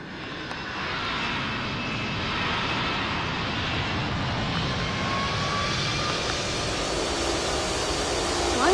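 A passenger airliner's engines drone steadily in the Roblox PTFS flight game, a constant loud broadband roar with a faint rising whine near the end and no talk over it.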